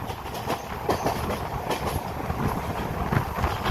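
The Kolkata–Sairang Express, hauled by double engines through hilly country, rumbles steadily with a rhythmic clickety-clack of wheels on rails, heard from aboard at a constant moderate level.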